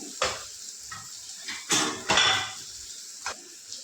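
Ivy gourd is stir-fried in a pan, heard as bursts of metal spatula scraping and clattering against the pan with a faint sizzle underneath, no talking.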